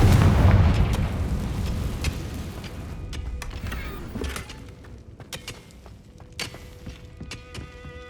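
Confringo fire spell blast in the Hogwarts Legacy video game on PS5: a heavy booming impact that rumbles and fades, followed by scattered sharp clicks and pops.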